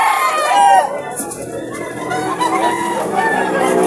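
A Sweater-bloodline gamefowl rooster offered at a breeders' market in San Jose del Monte, Bulacan, crows and clucks loudly and close, with other fowl and faint background bustle around it.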